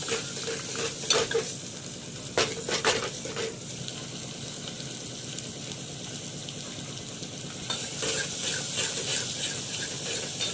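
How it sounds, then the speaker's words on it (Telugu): Sliced onion goes into a pan of hot oil with ginger and sizzles steadily, with occasional stirring clinks and scrapes near the start and again toward the end. The frying is loud and close, with no voices. "అల్లం వేసిన దాని తర్వాత ఇప్పుడు ఉల్లిగడ్డ వేస్తుంది"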